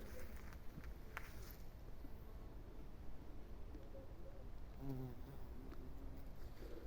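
Buzzing insects hover close by, a soft droning hum that rises and fades as a bumblebee and a honeybee move around a passion fruit flower, with faint rustling in the background.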